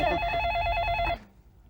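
A telephone rings indoors in a Hindi comedy series, a bright electronic trill that holds steady for about a second and then cuts off abruptly into quiet.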